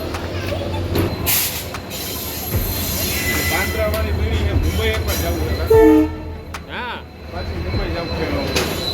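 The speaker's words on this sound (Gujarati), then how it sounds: "અને આ છે મિત્રો વેરાવળનું રેલવે સ્ટેશન" A metre-gauge train rumbles and clanks at Veraval railway station, with wheel squeals and a brief horn-like tone, while people talk nearby amid platform bustle.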